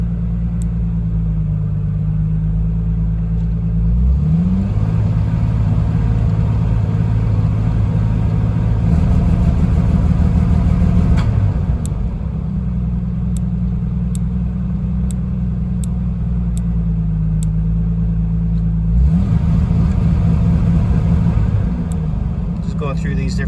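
A Renix-era Jeep engine idles with a steady low rumble, then is repeatedly revved, the pitch climbing and stalling around 2000 rpm before dropping back. Each rev rises only partway before falling, close and loud.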